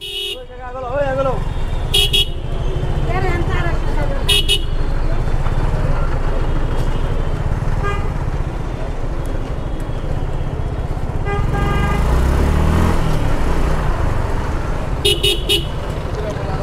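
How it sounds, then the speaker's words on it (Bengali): A morning traffic jam of cars and rickshaws rumbles continuously while horns toot in short bursts, several repeated, with people talking over the din. "পুরা রাস্তাটা জ্যাম।"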